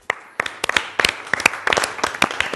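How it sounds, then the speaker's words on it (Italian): Studio audience on the Italian TV sports talk show Caffè Sport clapping, a loose scatter of separate hand claps building into brief, uneven applause close to the microphone. "facciamo anche un applauso ad Alessio Feliciani"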